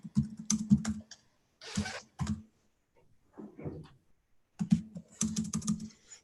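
Keyboard typing in two bursts of rapid clicking near the start and end, with a couple of brief clatters between and a pause in the middle, fairly close and clear with no talk.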